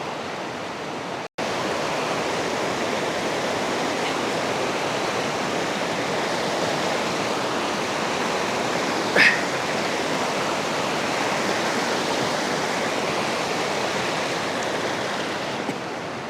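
A mountain stream fed from a lake above rushes loudly and continuously at a rocky river crossing on the Rupal side trek to Nanga Parbat base camp, a dense roar broken only by a momentary dropout early on.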